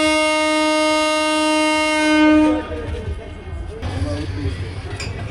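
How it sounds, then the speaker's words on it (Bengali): The Upaban Express, running from Sylhet to Dhaka, sounds a loud, sustained horn blast of about two and a half seconds as it departs Shamshernagar, followed by a low, steady rumble of the train starting to move. "ট্রেন এখনই ছাড়বে।"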